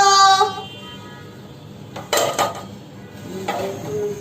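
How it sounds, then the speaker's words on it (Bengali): A spoon clatters and scrapes against a pan while yardlong beans and potatoes are stirred in spice masala. There are a few distinct metallic clinks and scrapes in bursts, close by, with quiet gaps between them. "দেখো কষিয়ে নিচ্ছে একটু ওই মশলার সাথে বরবটি আর আলু"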